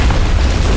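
Deep, roaring explosion rumble on a ship, loud and continuous, a dense low boom with no break through its short length.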